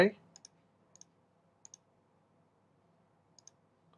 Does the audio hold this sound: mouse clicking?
yes